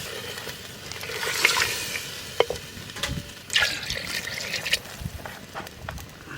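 Water poured into a pot of mutton curry in a village kitchen, a steady splashing pour with a few sharper clinks and sloshes, close and moderately loud, with no talking.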